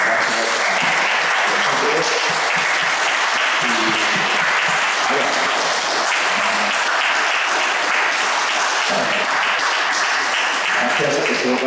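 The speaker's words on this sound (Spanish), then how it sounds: "No, te mereces un aplauso." Sustained audience applause at a talk and discussion event, a dense steady wash of many hands clapping at full loudness for the whole stretch, with faint voices underneath.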